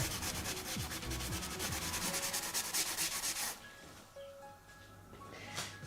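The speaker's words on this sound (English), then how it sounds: "So I'm just smoothing off the actual fingerboard transition." Sandpaper rubbing a maple guitar neck at the fingerboard transition, rapid rhythmic back-and-forth scratching strokes, close and fairly loud, that stop about halfway through and leave quieter room sound with a few faint taps.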